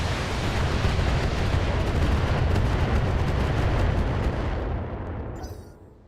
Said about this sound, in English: we're gonna fire everything I've got at this Gauss turret